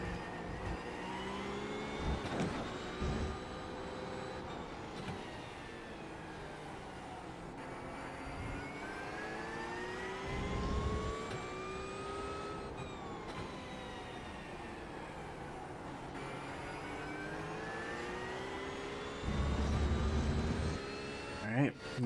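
Porsche GT3 race car in iRacing at Fuji, its engine revving and shifting steadily with rising and falling pitch through gear changes, loud and continuous, with a voice talking over it.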